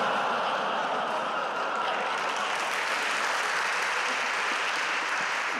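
Steady, dense applause from a conference audience during Yukihiro "Matz" Matsumoto's talk on Ruby, sustained and even throughout with no voices over it.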